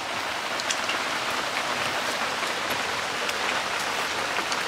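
Steady rain falls on a surface in rural southern Vietnam, a dense, even patter of drops close by that runs unbroken throughout with no voices.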